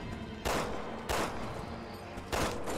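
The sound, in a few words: gunshots in Resident Evil 6 video game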